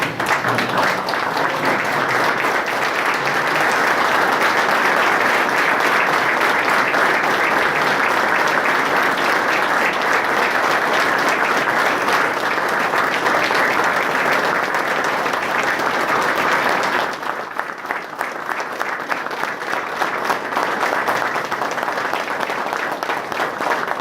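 An audience at a school's 25th anniversary ceremony gives sustained, loud applause as the ceremonial flags are brought in, an even roar of clapping that thins slightly near the end.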